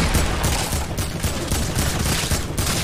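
Dense video-game gunfire, a loud continuous barrage of overlapping shots with no clear pauses, close and harsh throughout.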